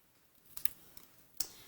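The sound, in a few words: scissors cutting an Easter card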